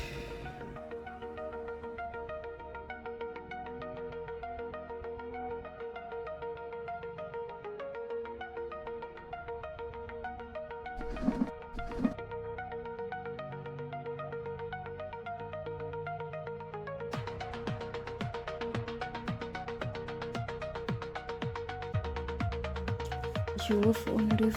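A mobile phone ringtone plays on and on as a melodic electronic tune repeating its phrases, loud and steady with no voices over it, growing busier toward the end.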